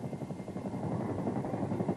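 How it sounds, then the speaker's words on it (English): A CH-47 Chinook, the Army's heavy-duty tandem-rotor helicopter, gives a steady rhythmic rotor thump with a low engine drone, moderately loud and continuous, with no talk. "The Army's heavy-duty helicopter, the CH-47, known as the Chinook, can carry everything from heavy construction equipment"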